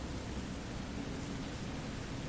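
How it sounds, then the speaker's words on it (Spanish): Steady, even rain hiss in the video game Resident Evil: Revelations 2 fills the whole stretch, a dense wash of noise with no distinct drops or pauses. "Está lloviendo."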